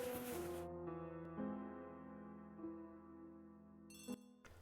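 A phone rings in the ABC Murders video game, a faint sustained electronic ringtone with layered tones, ending in a short burst of brighter chiming.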